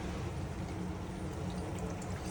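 Milk is poured into a cooking pot, giving a close, steady, continuous liquid rush over about two seconds with no talk.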